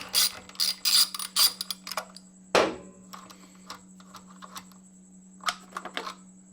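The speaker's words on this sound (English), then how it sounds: "we're going to start unbolting the stock muffler" Ratchet with a 6mm Allen socket working a bolt on the stock muffler of a Ducati Panigale V4S, a close series of quick ratcheting clicks in bursts alongside a steady hum, with one louder clank midway.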